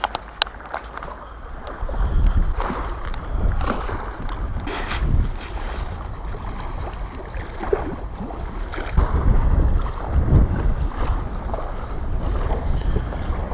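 Gusty storm wind buffeting the microphone outdoors near water while fishing for zander at Hamaliivka, with low rumbling blasts rising and falling over a steady background hiss.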